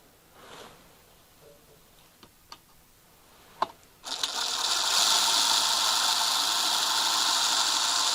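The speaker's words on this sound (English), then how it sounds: "and I'll drill one." Drilling a hole in a metal part while repairing a broken wax injector: a few sharp clicks and taps, then a loud, steady, high whirring grind that starts midway and runs to the end.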